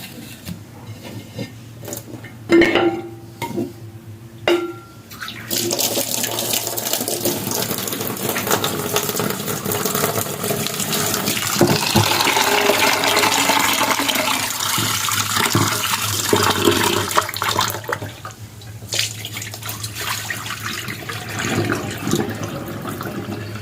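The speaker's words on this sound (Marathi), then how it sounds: "ही डाळ आपण ही अजून 2 पाण्याने स्वच्छ धुवून घेऊया।" Lentils (dal) are rinsed in water in a home kitchen, giving a steady sloshing, running-water sound over about twenty seconds, with a few knocks near the start and a continuous low background hum, and no talking.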